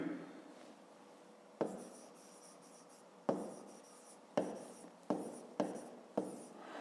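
Digits written by hand on paper during a fifth-grade maths exercise, in short separate strokes. Five or six distinct scratching bursts sound close and quiet against a silent background.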